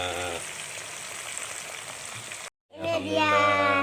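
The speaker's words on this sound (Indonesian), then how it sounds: "Kita pisangnya kita goreng ya." Pok ping bananas fry in hot oil with a close, steady crackling sizzle. It cuts out for a moment, then returns louder with stirring noises.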